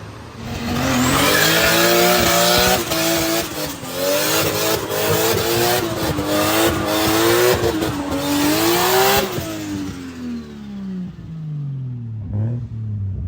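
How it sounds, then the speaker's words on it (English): A Porsche swapped with an LS3 V8 roars through a loud burnout, its engine revving hard with tire squeal for several seconds before the rumble drops and fades away. "How's that burnout?"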